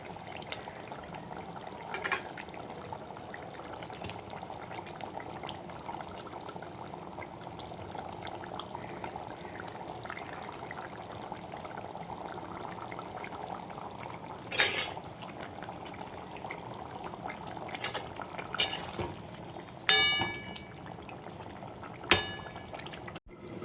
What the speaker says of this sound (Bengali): দেখো ঝোলটা ফুটে গেছে, আমি মাছগুলো দিয়ে দেবো একে একে